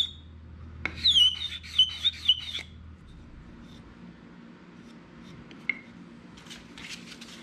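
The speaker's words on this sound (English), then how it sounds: "So now, we'll just hand sand this with 320." Hand sanding a wooden archtop guitar with 320 grit sandpaper: a run of short, close, rhythmic rasping strokes, then quieter intermittent rubbing and light handling noises.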